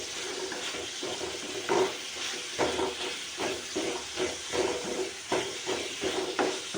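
Coriander sautéing in a pan for onion tomato chutney, a steady hiss of sizzling with soft scraping stirs recurring at a regular pace, moderately close and fairly quiet.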